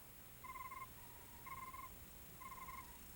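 Quiet opening of a song with three evenly spaced bursts of high, cricket-like chirping over low background hiss, each about half a second long.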